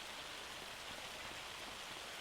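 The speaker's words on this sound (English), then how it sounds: "Oh, we got hail. It actually looks pretty good. That's coming down quite a bit there." Hail pelts down in Farming Simulator 25 as a steady, even hiss of dense pattering, fairly faint, with no voices.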